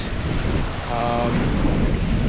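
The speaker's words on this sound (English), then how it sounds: "High wind coming in. Slight rain, not too much rain yet." High typhoon wind with slight rain on Siargao Island by a rough sea, a loud, continuous roaring gust buffeting the microphone, with a brief whistling tone partway through.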